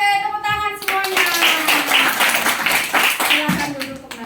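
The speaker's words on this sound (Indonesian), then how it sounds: "Oke, tepuk tangan semuanya." Group hand clapping in a classroom follows a sung national song, with irregular claps among voices and a tonal singing phrase at the very start.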